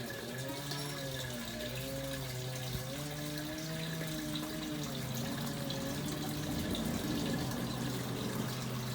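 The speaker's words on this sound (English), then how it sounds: "You can see there the water's draining out." Water drains out of a 5-foot ABS Judge rotisserie smoker with a quiet, steady trickling and gurgling flow, faint and continuous with a low hum underneath.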